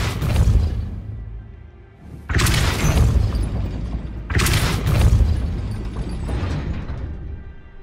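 Depulso force spells cast in Hogwarts Legacy land as two heavy, booming bursts with a mechanical grinding rattle, each surging loud and then decaying over a couple of seconds, after an earlier rumble fades out.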